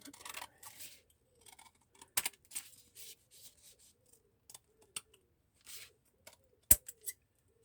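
Scissors snipping paper while trimming a piece for a handmade envelope and file folder journal, a scatter of short, crisp cuts with quiet gaps between them, close by and with no talking.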